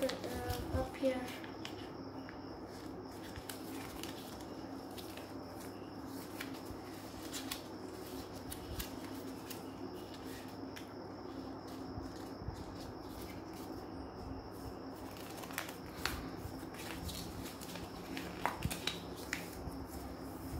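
Paper being folded into an origami model: quiet, close crinkles, creases and small taps come and go while a person talks throughout.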